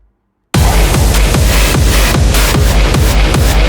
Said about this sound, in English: This is a hard techno, or I don't know how to call it, style of track.